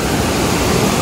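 Small waterfall and clear stream water at the Kanmangafuchi gorge in Nikko, a steady close rushing roar filling the whole short stretch with no voices.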